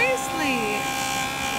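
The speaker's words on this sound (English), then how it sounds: "that wheel just burnishes and it makes it so nice" A JoolTool rotary wheel hums with a steady, bright motor whir while burnishing a metal clay ring, close and constant under a person talking.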